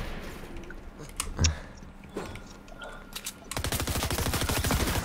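Gunfire in a building-style shooter video game: a few scattered shots and clicks, then a rapid, steady burst of automatic fire that grows louder toward the end, with no speech.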